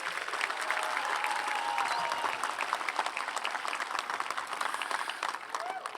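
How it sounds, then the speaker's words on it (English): Audience applause fills a high school graduation ceremony, dense and steady throughout, with scattered cheers in the crowd. "Can we give another round of applause for Mr. DeMarco and the Q&Q Win and Sabo?"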